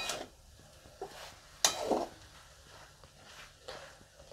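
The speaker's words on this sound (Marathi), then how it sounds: "आता या आपण भाजी एकदा हलवून घेऊ चांगली।" A spoon stirs methi dal bhaji, fenugreek leaves cooked with mung dal, in a pan, making soft scraping and a few light clinks, with one brighter knock standing out over a quiet room.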